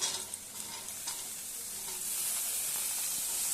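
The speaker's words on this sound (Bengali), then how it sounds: "পেঁয়াজটা মোটামুটি ভাজা হয়ে গেছে, এবার আমি গাজর আলু দিয়ে দেবো।" Carrots and potatoes sizzle and fry with onions in a pan for chow mein, a steady close hiss with occasional stirring scrapes and no voices.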